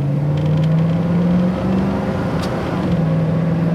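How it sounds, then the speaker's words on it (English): A 1973 Mustang Mach 1 with a 351 V8 pulls steadily through its gears, a loud, close engine drone holding a strong low tone, briefly dipping around a shift before climbing again. "We'll go through the gears once here with this little 351."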